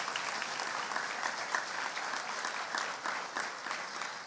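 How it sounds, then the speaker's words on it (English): An audience at a high-school awards ceremony applauds award recipients, a dense, steady wash of clapping from many hands filling the room throughout. "You guys can give them a round of applause."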